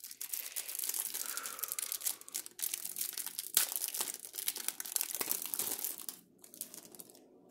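Packs of Double Masters trading cards being torn open, with close crinkling foil wrappers, sharp tearing and rustling in busy bursts, ending in quieter handling.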